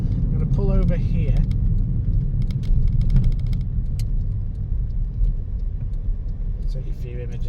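An old car rumbles along at close range, its engine steady and loud as it slows and pulls over, with a few brief voice sounds over the engine noise.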